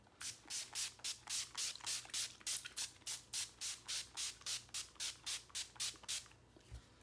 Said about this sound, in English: I'm just going to take my all-nighter spray.